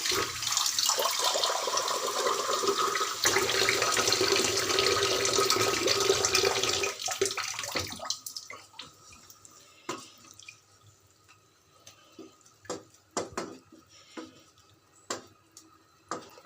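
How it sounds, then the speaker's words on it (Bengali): A small amount of water is poured into an eggplant and dried fish curry, a steady rushing splash lasting several seconds, then quieter scattered clicks and taps of a pan and utensils. "সামান্য পানি দিয়ে দিব"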